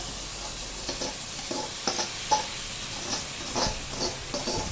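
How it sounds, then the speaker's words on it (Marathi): Diced potato and boiled cluster beans (gavar) cook in a pan, a soft steady sizzle punctuated by several distinct scrapes and clinks of a spatula stirring the vegetable, moderately quiet and close. "हे मस्त हलवून घेऊया छान हलवायची ही भाजी"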